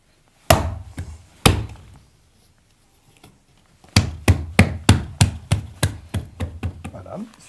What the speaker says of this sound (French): Et on pose le carreau.